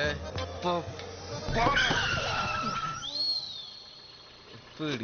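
A car brakes suddenly in a movie scene, a rising squeal of tires sliding under a voice, followed by a high screech fading into quieter background.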